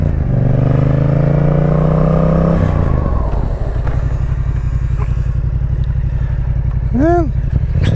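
A naked motorcycle rides with a steady engine drone that drops as the rider brakes, settling into a low rhythmic idle, with a brief rising tonal chirp near the end.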